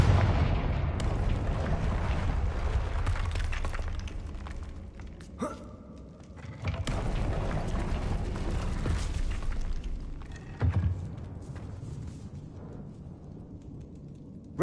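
Confringo blasting-spell explosions in Hogwarts Legacy, a series of loud booming blasts with a short gap partway through and a sharp hit near the end.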